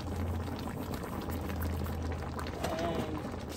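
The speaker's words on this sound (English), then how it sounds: "So just gonna let it boil." A pot of carrot stew with dried fish boils steadily, a dense continuous bubbling and simmering hiss at moderate distance with a faint low hum running through it.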